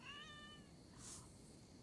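A cat in the video game Assassin's Creed Valhalla gives one soft, drawn-out meow, followed by a brief brighter sound, fairly quiet and heard alone.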